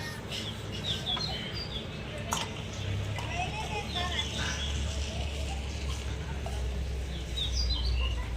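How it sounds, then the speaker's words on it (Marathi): Busy chorus of sparrows chirping outdoors, many overlapping high tweets around a steady background hum, with a voice briefly talking. "बघा चिमण्याचा आवाज कसा मस्त किती आवाज येतोय"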